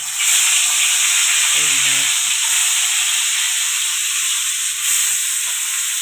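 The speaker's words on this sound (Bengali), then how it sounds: "তেল গরম হয়ে গেছে এখন মাছ দিলেন" Koi fish frying in hot oil in a home kitchen, a loud, continuous close-up hiss and sizzle throughout, with a brief low clatter partway through.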